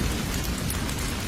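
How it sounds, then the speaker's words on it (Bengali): Dense cartoon rain hisses steadily and loudly, a continuous wash of falling drops with no pause and no voices. "বৃষ্টির ফোঁটাগুলো বাড়তে লাগলো।"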